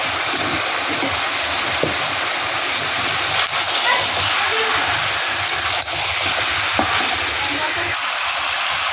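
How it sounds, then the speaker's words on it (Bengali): Chicken frying in a pan with onions gives a steady, close sizzle that runs throughout, broken by a few faint clicks and scrapes of stirring. "চিকেনটা একটু ভেজে নেবো ভালো করে"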